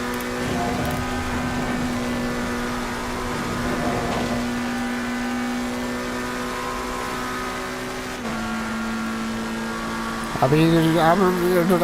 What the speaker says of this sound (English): I'm just looking at the McLaren drive itself across fucking Red Hill